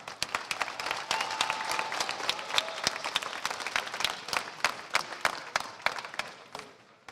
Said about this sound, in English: if we can give one more round of applause to the student speakers